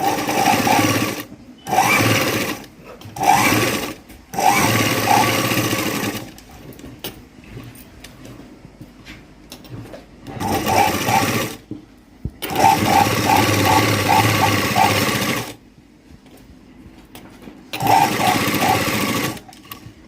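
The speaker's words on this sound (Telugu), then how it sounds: "సాగదీయకుండా ఇలాగే స్టిచ్ చేసేయండి" A sewing machine stitches a blouse piece in loud, close bursts of rapid mechanical whirring, stopping and restarting several times with short quiet gaps between runs.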